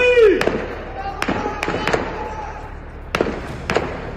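Gunfire breaks out during an attack on troops in a camp: sharp, loud, separate cracks come in irregular bursts of single and paired shots, with voices audible in the background.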